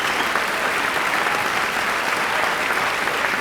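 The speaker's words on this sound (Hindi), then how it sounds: "ज़ैनब के लिए जोरदार तालियां" A stage audience bursts into sustained applause for a performer, a dense even wash of clapping that holds steady for a few seconds with no voices over it.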